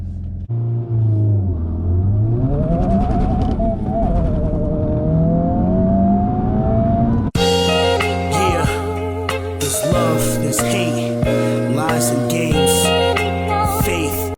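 A 2023 FL5 Honda Civic Type R (front-wheel drive, manual) and a 2024 manual all-wheel-drive VW Golf R launching from 0 to 60: a loud engine revs and climbs through gears, then a sharp cut to another roaring run, close and continuous.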